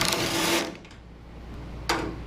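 A power tool spins out grille bolts on the front end of a 1964 Chevy II during disassembly, giving two short, loud, close-up whirring bursts separated by a quieter pause.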